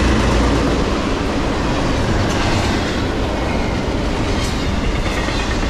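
A Norfolk Southern intermodal freight train rolls past close by, a loud continuous rumble with wheel clatter and faint squeals throughout and no voices.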